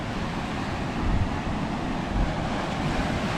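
Choppy ocean surf at Glass Beach on Kauai, Hawaii, a steady, loud rushing wash of waves mixed with gusty wind noise on the microphone, with no one talking.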